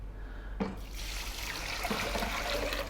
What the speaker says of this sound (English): then we're going to add double the amount of water